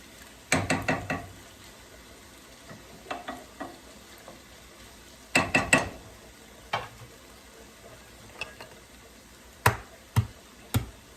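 Potatoes fry in a pan and get stirred, with sharp, irregular clatters of a utensil against the pan in spaced bursts over a quiet sizzle, close and fairly loud, no talking.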